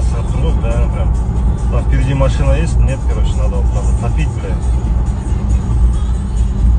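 Several cars moving through night city traffic, a steady broad engine and road rumble with passing vehicles, fairly loud and continuous, with voices faintly mixed in.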